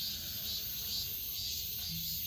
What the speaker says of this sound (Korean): 아침부터 매미 소리가 엄청나게 맴맴맴맴 노래를 합니다